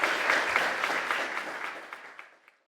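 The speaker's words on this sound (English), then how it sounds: "please applause for Nathan" Audience clapping for a speaker at a Bitcoin payments conference, moderate and fairly distant, tapering off over a couple of seconds into silence.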